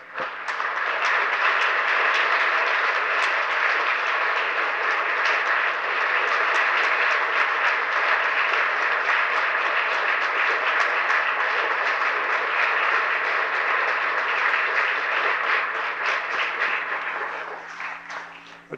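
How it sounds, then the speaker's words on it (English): Long, steady audience applause fills a hall at a college architecture and planning anniversary celebration, dense and even throughout before tapering at the end, with no voices over it. "applause."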